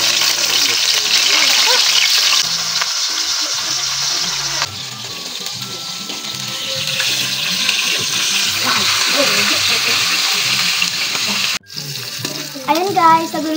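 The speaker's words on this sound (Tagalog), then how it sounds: "Nagpiprito tayo ng talong pagkatapos natin nagprito ng haruan." Eggplant frying in hot oil in a pan after a batch of haruan fish, a steady close sizzle and crackle running throughout with brief stirring clatter, a short pause, and a voice speaking faintly near the end.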